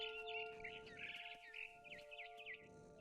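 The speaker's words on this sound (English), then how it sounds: "Then I heard chirping outside my window." A barn swallow chirps outside a window in the video game What Remains of Edith Finch, quick twittering calls fluttering rapidly over a soft, steady musical drone, faint and close, with no talking.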